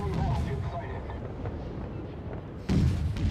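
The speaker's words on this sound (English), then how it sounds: "I think it's good that I'm firing the HE ammo basically to set fires" Naval guns on the cruiser USS Charleston (C-22) fire high-explosive shells in World of Warships, a deep booming rumble that rolls on before another loud blast near the end.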